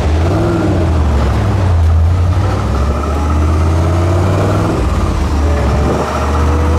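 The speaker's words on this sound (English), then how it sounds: "We've now got full control, I can just accelerate smoothly." Rover V8 engine with a newly replaced throttle position sensor, revving steadily and accelerating smoothly, a loud continuous low rumble with rising harmonics close by, no talking.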